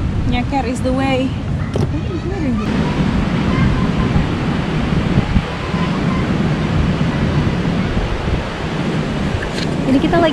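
Waves at Triangulasi beach in Alas Purwo national park, East Java, roar continuously with heavy wind buffeting the microphone, a loud, unbroken wash of surf with voices talking briefly over it early on.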